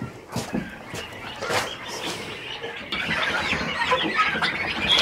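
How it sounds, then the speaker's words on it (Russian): Turkeys and young poults in a pen give soft, scattered clucks and chirps at close range, over a steady farmyard background with no talking. "Ну и индюки."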